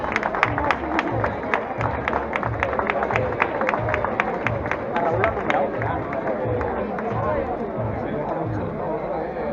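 Crowd at a 7K road race in Meliana clapping for a runner, a quick burst of rhythmic applause that settles into general hubbub, with a voice over a loudspeaker talking on top.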